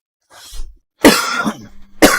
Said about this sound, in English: didn't need that cough then